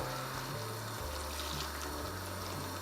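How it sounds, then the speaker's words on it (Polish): A ladle of starchy pasta cooking water is poured into a pan of simple tomato sauce, a steady watery pour heard alone over a low background hum. "dodać taką dobrą chochelkę wody z gotowania makaronu"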